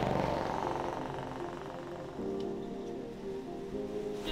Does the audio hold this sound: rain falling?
yes